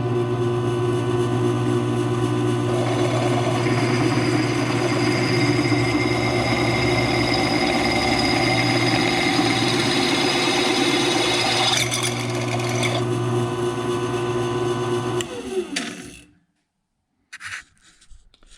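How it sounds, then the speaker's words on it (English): A steady mechanical whir of a drill boring holes in a solar oven cooking tray part runs continuously for about fifteen seconds, then cuts off abruptly, followed by a couple of brief clicks. "So I'm going to go ahead and start drilling this piece to match this"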